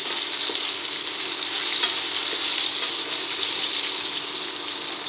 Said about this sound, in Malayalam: നല്ലൊന്ന് ഫ്രൈ ആവട്ടെ.